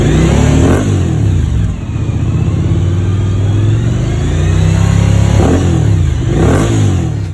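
Loud close revving of a Suzuki V-Strom 1050XT through a V-Lane GP1 470mm carbon slip-on muffler, a deep steady idle rumble broken by several sharp throttle blips.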